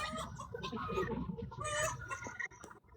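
Chickens clucking, played from a phone, come through as a busy, fairly faint stretch of overlapping clucks and squawks that thins out toward the end.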